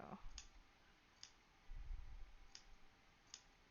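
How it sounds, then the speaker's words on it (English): Freshly sharpened scissors snip into the curved seam allowance of fabric, four crisp, quiet clicks spaced about a second apart with soft handling rustle between them. "We might as well go ahead and snip everything."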